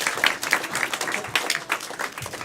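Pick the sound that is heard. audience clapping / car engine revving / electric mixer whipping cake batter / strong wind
audience clapping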